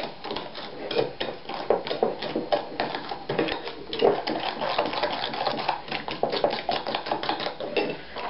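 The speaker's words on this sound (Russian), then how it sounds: "Расколачиваю." Egg and sugar being beaten by hand for an apple-ring fritter batter, a steady run of quick clinking whisk strokes against a bowl, close and fairly even throughout.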